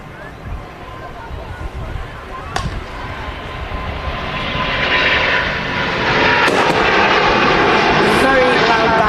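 A Singapore Airlines airliner takes off at Manchester Airport on a hot summer day, its jet roar swelling steadily and staying loud and broad, with a few sharp bangs and knocks nearby early on.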